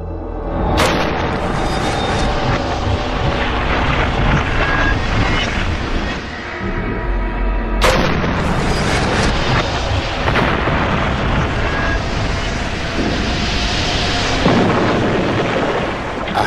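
A pressurized aircraft fuselage model, brought to the equivalent of flying at 12,000 meters, is deliberately ruptured in a test chamber. Two loud, sudden bursts ring out about seven seconds apart, each followed by a long roaring rush of escaping air.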